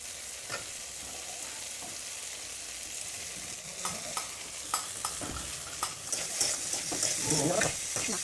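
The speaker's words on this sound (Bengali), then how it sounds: "আর এবারে হালকা আমি এটাকে নেড়ে ভালোভাবে কষিয়ে নেব।" A frying-pan curry of fried okra and broken boiled potato being stirred and sautéed, with soft continuous sizzling and intermittent scraping strokes of a spoon against the pan, louder near the end.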